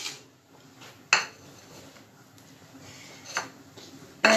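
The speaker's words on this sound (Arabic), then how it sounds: "غندوز غادي نحك الثوم والبصل" Garlic and onion grated by hand on a metal grater in a home kitchen, heard as a few sharp scraping bursts spaced apart between quiet pauses, close and moderately loud.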